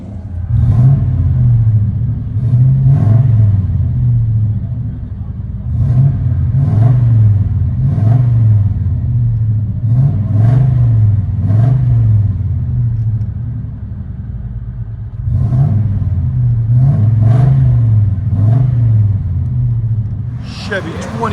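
A deep, rumbling 454 big-block V8 in a Chevy K2500 truck with shorty headers and Flowmaster 40 true dual exhaust idles with a heavy, loping burble, pulsing steadily at close range, with a brief rise in revs near the end.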